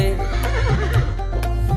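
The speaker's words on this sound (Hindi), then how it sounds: "हिन हिन करता घोड़ा भागे" A horse whinnies with a wavering, rising-and-falling call, layered over a bouncy Hindi children's animal song backing with periodic beats.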